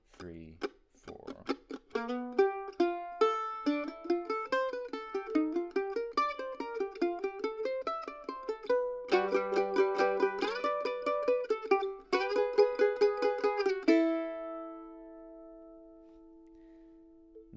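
Mandolin picking a tune with ringing double stops, clear bright plucked notes in a lively steady rhythm, played solo and close, ending on a sustained chord.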